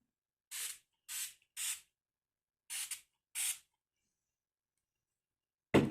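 Hair spray from an aerosol can sprayed onto hair in five short hissing bursts with pauses between them, close and clear, followed by a brief knock at the end.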